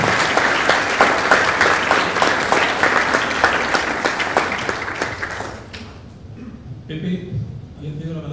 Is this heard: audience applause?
yes